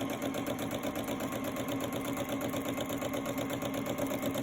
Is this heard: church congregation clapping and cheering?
no